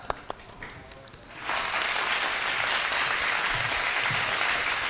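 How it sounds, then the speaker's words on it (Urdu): Audience applause at the final of a speech competition, breaking out after a few scattered claps into a loud, sustained roar of clapping from a large crowd that holds steady to the end. "تالیاں ہونی چاہیے بھائی، آج فائنل ہے"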